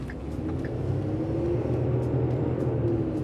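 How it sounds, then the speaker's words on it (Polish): A Ford F350 Super Duty pickup's engine hums with a low, steady idle rumble, close and continuous, with no talking over it. "Nie wiem, w jakim stopniu dobrze słuchać dźwięk tego silnika."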